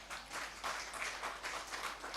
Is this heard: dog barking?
no